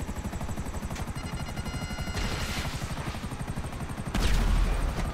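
Video game helicopter with gunfire: rotor blades chop in a fast, steady pulse throughout, with bursts of shots layered on top and a louder blast near the end, at moderate level with no talking.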